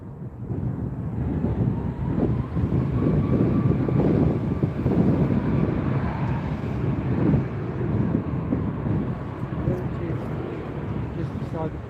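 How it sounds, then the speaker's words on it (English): Jet2 airliner on approach to land at Newcastle Airport in a crosswind, a steady broadband engine roar that holds throughout with wind buffeting the microphone and occasional voices underneath. "That's Jet2 just coming in, yeah."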